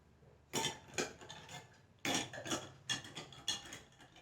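A spoon stirs raw green mango juice in a glass or vessel; quick rhythmic clinks of metal against the container come in two bursts, close and fairly quiet, with no voices.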